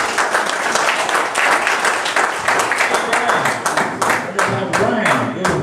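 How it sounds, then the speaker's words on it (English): Lively audience applause at a comedy variety show, dense clapping with cheering voices mixed in, loud and sustained, with a voice talking over it toward the end. "Give him a round of applause."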